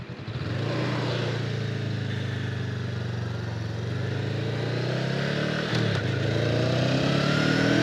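A 2025 Honda Rebel 500 ABS motorcycle accelerates hard on a night ride, its engine drone loud and close, rising steadily in pitch with a brief dip around a gear change before climbing again.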